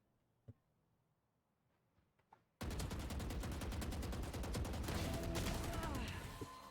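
Rapid gunfire from the Valorant video game starts abruptly partway through as a dense, loud, continuous burst of shots, after a quieter stretch with a few isolated clicks.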